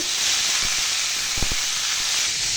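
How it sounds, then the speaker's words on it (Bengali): Potatoes and Malabar spinach seeds frying in a pan give a steady, close hiss of sizzling oil throughout, broken by a few soft clinks or knocks of a utensil. "এখানে ভাজি করে নিতেছি এটা হচ্ছে পুঁই শাকের দানা দিয়ে আর আলু কেটে নিয়েছিলাম আলু দিয়ে ভাজি করেছি"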